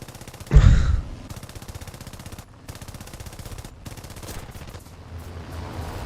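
Vickers machine gun fire from an aircraft gunner position in an air combat video game, rapid continuous bursts with a loud thump near the start, then a sustained rattling stream broken by brief pauses, over engine drone.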